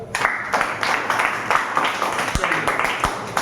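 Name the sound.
class clapping hands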